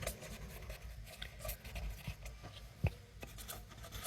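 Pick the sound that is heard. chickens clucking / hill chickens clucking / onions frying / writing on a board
writing on a board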